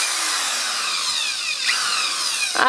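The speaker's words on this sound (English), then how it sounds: "What we need to do now is drill holes in our milk jug." A power drill whirs, its pitch sliding as the bit bites into a plastic milk jug, with short scraping bursts near the end; no speech.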